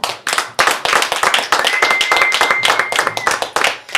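Strong applause from a concert audience, brisk and continuous clapping close by throughout, with a brief tonal whistle-like sound in the middle.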